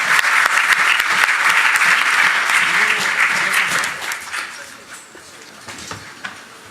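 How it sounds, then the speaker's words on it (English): A conference audience at the 2017 New York Maritime Forum applauds its analyst panelists. The applause starts loud and dense, then thins and fades out over the final seconds. "Round of applause for them, please."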